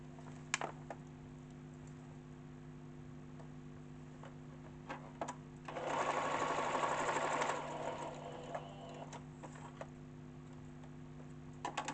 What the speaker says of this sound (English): I'm stitching on the waistband now just to finish up the trousers.